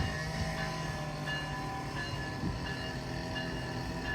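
A CN mainline train rumbles steadily along the tracks at Coteau, Quebec, a continuous heavy drone with faint wheel squeal, heard from a short distance.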